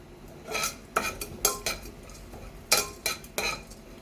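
Crushed almonds and cashews being stirred as they roast in a pan for fruit samiya custard, with a utensil scraping and clinking against the metal in irregular close strokes, without talk.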